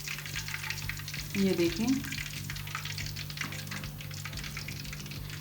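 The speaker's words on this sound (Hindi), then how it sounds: "मैं जो पहले मैंने पीस फ्राई किए थे उनको मैं दोबारा से हल्की आंच पे फ्राई करूँगी" Fish pieces refry in oil over a low flame, giving a soft, continuous crackling sizzle with a faint electrical hum beneath; someone briefly speaks near the start.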